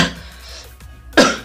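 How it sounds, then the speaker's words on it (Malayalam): A single sharp, close cough bursts out near the end after a few quieter throaty breaths and sounds, loud and short, with no speech. "ചുമയാണ്"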